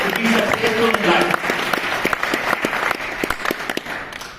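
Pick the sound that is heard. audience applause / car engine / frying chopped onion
audience applause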